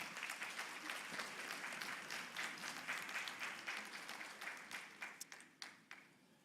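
Congregation at a Sunday church service applauds steadily, dense clapping that thins into a few scattered, isolated claps before fading out.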